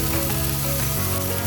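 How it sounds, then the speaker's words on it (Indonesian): Minced garlic and spinach sauté in an oiled pan for a bibimbap topping, giving a loud, continuous dense sizzle and frying hiss throughout. "Tumis hingga matang, lalu masukkan bayam."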